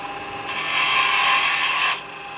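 A woodturning tool shears a small wooden tenon on a spinning lathe, a steady, fairly loud hissing scrape lasting about a second and a half before easing off into the lathe's running hum.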